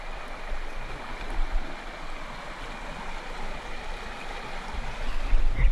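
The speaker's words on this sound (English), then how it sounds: "I love the way that the water flows through this entire river over the rocks." Steady rushing of river water flowing over rocks along a hiking trail in Rhode Island, a continuous broadband wash close by with no talk, swelling slightly louder toward the end.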